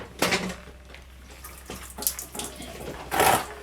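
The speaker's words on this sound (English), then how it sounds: "All I've got to do now is just empty the water out of it." Water pours and splashes out of a 1950 MG cylinder head after a valve leak test, coming in a few short gushes and trickles with quiet pauses between, close by.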